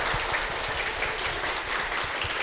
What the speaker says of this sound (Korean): 우리 박수 좀 드릴까 봐요